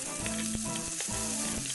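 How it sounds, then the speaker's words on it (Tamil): Onions and tomatoes sautéing in a pan for okra masala gravy: a loud, continuous close sizzle with a few quick spatula clicks, no speech. "இப்போ வெங்காயம் தக்காளியும் நம்ம வதக்கிடலாம்"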